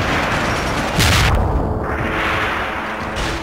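An EMP grenade detonating in the stealth action game Deus Ex: Human Revolution, a single loud burst around the one-second mark with a low thump and a bright crackling spray, then a steady hum of combat noise.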